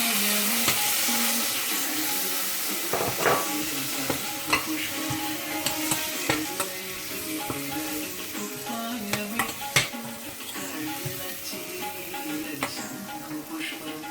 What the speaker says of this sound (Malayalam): ഇതെല്ലാം ഇട്ട് കഴിഞ്ഞിട്ട് കുറച്ച് തക്കാളി ഇട്ടിട്ട് ഈ തക്കാളി ഒന്ന് വേവണ വരെ അടച്ചു വെച്ച് വേവിക്കാം